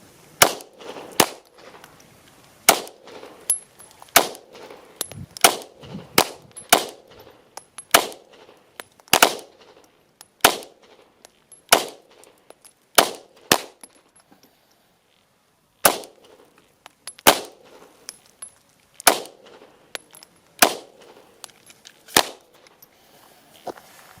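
Pistol shots at an outdoor shooting range bay, a steady series of about two dozen sharp cracks fired one at a time at an uneven pace with brief pauses, fairly close and punchy.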